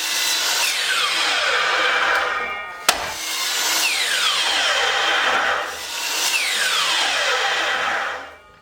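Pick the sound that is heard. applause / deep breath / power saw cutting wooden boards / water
power saw cutting wooden boards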